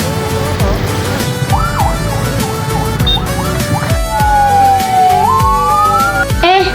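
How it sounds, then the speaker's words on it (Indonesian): An ambulance siren wails and sweeps up and down in pitch, loud and close, over busy street noise and engine rumble. "Ada ambulan NU, aku bangga sekali melihatnya."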